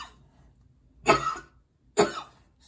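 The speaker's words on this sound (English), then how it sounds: "I keep coughing" Two harsh, dry coughs from a dry throat, about a second apart, close and loud, with quiet between them.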